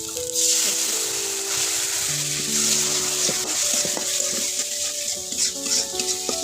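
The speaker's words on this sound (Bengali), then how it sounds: "তো এই তো মশলাটা ভাজা ভাজা করে নিই" Spice masala fries in a hot pan for a Bengali fish dish, a steady bright sizzle with scraping stirs and a few metallic rattles, close and fairly loud, no speech.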